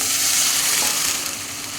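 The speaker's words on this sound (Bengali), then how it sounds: "এর মধ্যে আমি মানে গরম জল দিয়ে দিচ্ছি" Hot water poured into a pan of spice masala cooked until the oil separates, for a rohu or katla fish curry, giving a loud, dense hiss and bubbling sizzle that eases slightly toward the end.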